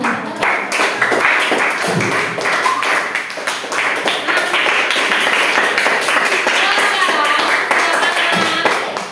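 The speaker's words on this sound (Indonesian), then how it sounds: "Tepuk tangan dulu." Students in a classroom clap their hands together, sharp close claps in an uneven, scattered rhythm with bumps and thuds, while voices chatter underneath.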